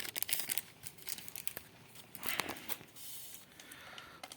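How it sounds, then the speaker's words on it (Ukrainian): A plastic packet of Chorus fungicide is crinkled and torn open close by, with bursts of sharp rustling and crackling, then a softer steady rustle. "Відкривай ще цей пакет."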